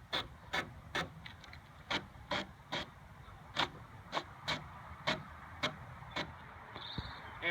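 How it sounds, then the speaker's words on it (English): Hand sanding on a wooden farmhouse table makes a steady run of short scratchy strokes, about a dozen rhythmic rasps, close and fairly quiet with no talking. "once you sand everything down, your farmhouse table is done"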